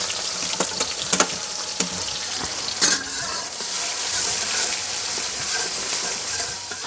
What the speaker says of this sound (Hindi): तो प्याज डाल देते हैं।